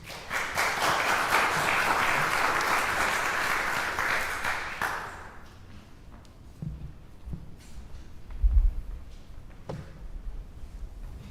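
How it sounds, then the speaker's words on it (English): Congregation applause at a Sunday worship service fills a room with dense, steady clapping for about five seconds, then fades out, leaving quiet room sounds with a few soft knocks and shuffles. "Let's give one more round of applause to the Boston."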